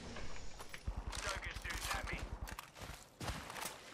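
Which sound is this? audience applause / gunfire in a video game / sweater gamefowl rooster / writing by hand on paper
gunfire in a video game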